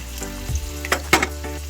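Onions and green chillies fry in ghee, making a quiet sizzle with a few short crackling bursts and stirring taps over less than two seconds.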